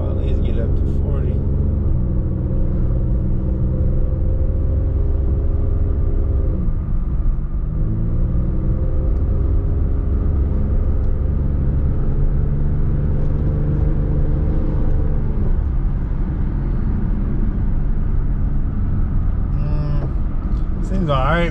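A 2001 Chevy Monte Carlo SS on a test drive, its engine and road rumble droning steadily throughout with shifting tonal bands as it accelerates, heard from inside the car.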